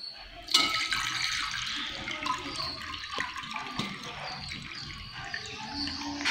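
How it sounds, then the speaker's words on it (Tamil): Water is poured into a container for a simple science demonstration using paper and a needle, a steady splashing pour heard close up with light background noise. "முதல்ல வந்து தண்ணியை ஊற்றணும்."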